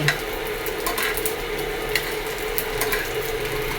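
Dried squid fries in bubbling cooking oil, a dense continuous sizzle and crackle with small pops scattered throughout, close and steady with no voices.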